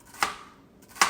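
Two sharp knife chops on a cutting board about a second apart, slicing food while preparing New Orleans shrimp with Cajun red beans and rice, close and crisp with a quiet pause between.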